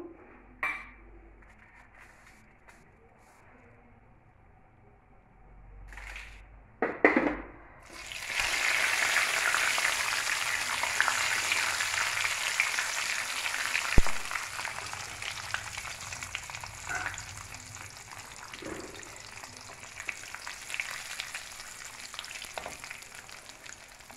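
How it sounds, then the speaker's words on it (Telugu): Cashews hit hot oil in a home kitchen, where a few quiet clinks of utensils give way to a loud, continuous crackling sizzle that holds steady for a long stretch, alone with no talking. "ఇప్పుడు మనము నూనె కాగిన తర్వాత జీడిపప్పు వేసుకున్నాం"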